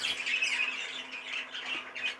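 Harsh, raspy squawking from a young cockbird being handled and looked over, near and fairly loud, running in repeated bursts through the whole moment with no talk over it.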